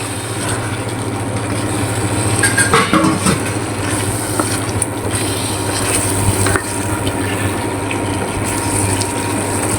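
About a kilogram of goat meat frying in oil for bhuna, a loud continuous sizzle with a steady low hum underneath and occasional scraping stirs of the pan, no speech.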